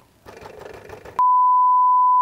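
A brief rattling mechanical noise, then a loud, sustained single-tone electronic warning beep from an older Honda Supra Fit motorcycle that holds steady to the end.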